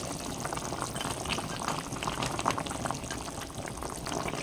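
Lentil curry broth with ridge gourd bubbles steadily at a rolling boil in a pot, a continuous close, dense simmering hiss with no voices.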